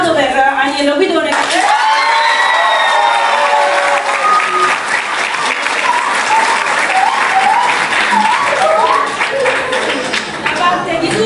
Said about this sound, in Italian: tutti, un applauso particolarmente impegnato per Agnello Guidone.